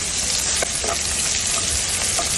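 Sliced onions and green chilies sizzle steadily in hot oil in a pan, a dense continuous frying hiss with a few faint stirring taps and no talk.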